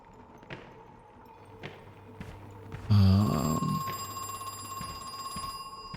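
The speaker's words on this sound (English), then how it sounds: "Where's this phone?" A telephone in the video game Crow Country rings sharply over a low droning ambience with scattered soft clicks, a brief loud burst of bell-like ringing that then fades into a thinner lingering tone.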